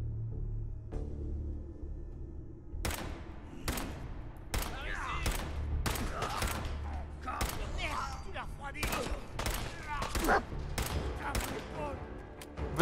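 Sharp bursts of machine-gun fire in Fallout 4 crack out about a dozen times after a quiet start, with a low rumbling bed beneath. Someone talks over the shooting.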